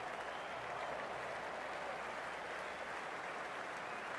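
A stadium crowd roars and cheers during a KKR vs RCB IPL cricket match in the Cricket 26 video game, a dense, continuous wash of applause and crowd noise holding steady throughout.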